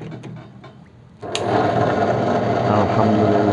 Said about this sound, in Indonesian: Kita coba apakah berfungsi mesin ini.